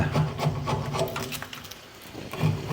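A tool scrapes burr comb off a wooden frame of honeycomb before extraction, making close, rasping strokes in a quick repeated rhythm with a brief lull midway.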